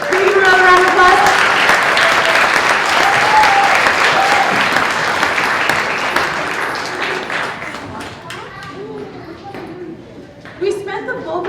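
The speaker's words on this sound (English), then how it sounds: "Can we give another round of applause?" A school winter concert audience applauds loudly and steadily, the clapping thinning out toward the end with a few voices and cheers audible.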